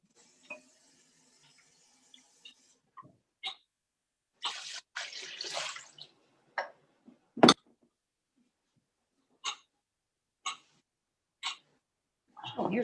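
Water poured into a crock pot of yellow pea soup: short, uneven bursts of pouring and splashing with quiet gaps between, ending in a longer pour.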